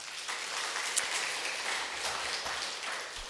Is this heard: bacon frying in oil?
no